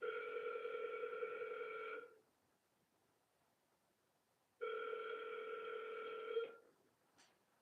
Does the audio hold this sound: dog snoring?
no